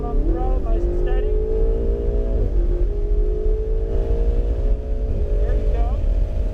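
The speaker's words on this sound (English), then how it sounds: "We'll keep on rolling on the throttle nice and steady." A Ferrari 488 GTB pulls along a track under steady throttle, its engine a continuous loud drone that climbs gently in pitch, with a voice talking over it.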